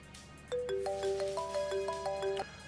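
A phone rings with a clear electronic melodic tone, a quick stepped sequence of bright beeps repeating for about two seconds, near and alone.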